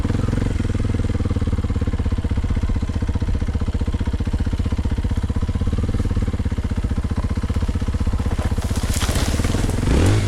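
A Kawasaki KLX 230 dirt bike rides off-road, its single-cylinder engine putting out a steady, loud, close-up chugging drone that holds at a fairly even pace, with a wind-like rush building near the end.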